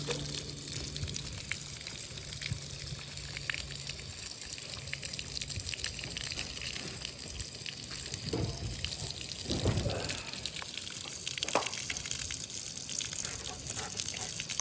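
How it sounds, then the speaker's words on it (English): Water flows steadily during aquarium sand cleaning, a continuous gushing rush like a running tap, with a few louder splashes near the middle. "now that I think about it, I want to control which direction the water comes out."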